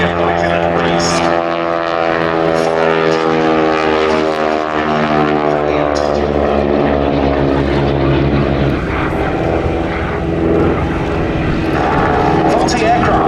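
Yale, Valiant and Harvard propeller trainer aircraft fly past at the Duxford Battle of Britain Airshow, a loud, steady engine drone with droning harmonics that shifts pitch as the planes pass, with breeze and a voice talking over it.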